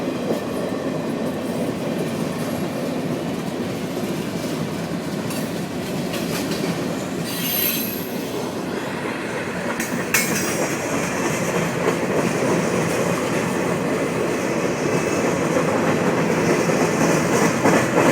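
A Norfolk Southern freight train rolls past in Anderson, Indiana, with a steady heavy rumble of wheels and rail cars, clicking joints and brief high wheel squeals, close and continuous throughout.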